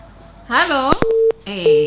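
Telephone line tones on a live talk show call: a steady beep and tonal signals, with a voice talking over them before the line goes dead.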